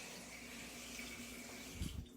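A touch-activated Kohler kitchen faucet runs with a steady broadband hiss of flowing water, close and continuous, ending with a few brief splashy thumps as the stream is shut off.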